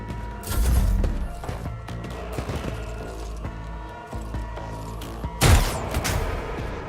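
Gunfire in the Warhammer 40k Rogue Trader video game, two heavy booming volleys from gunners over a dense game soundscape with music-like tones between them.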